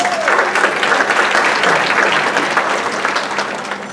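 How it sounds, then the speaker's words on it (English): At an NAACP Freedom Fund awards banquet, an audience breaks into loud, sustained applause. The clapping fills the room and slowly tapers toward the end. "Give it up for Yvonne."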